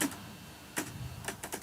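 Light tapping of keys on a computer keyboard while names are entered in MATLAB, a few sparse, quiet clicks with a faint room hiss behind them.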